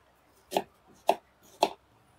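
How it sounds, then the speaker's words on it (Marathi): Three sharp, evenly spaced knife strokes through onion cut into thick pieces, each a crisp crunch landing on a board about half a second apart, close and clear in a quiet kitchen. "हा कांदा जरासा कसा जाडच कापायचा, जास्त बारीक नाही कापायचा"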